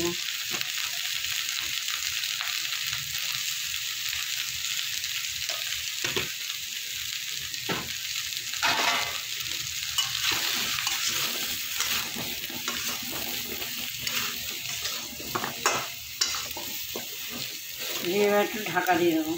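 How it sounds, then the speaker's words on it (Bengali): Pointed gourd (potol) frying in oil in a wok, with a continuous sizzle and frequent scraping stirs and clinks of the spatula against the pan, close and fairly loud. "পটলগুলো আমার ভাজা হয়ে গেছে, এবার আমি তুলে নেবো।"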